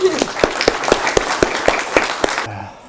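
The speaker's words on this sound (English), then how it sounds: "I think we need a round of applause" Wedding guests applauding after the vows, a few distinct close claps spaced at a steady rhythm, stopping abruptly near the end.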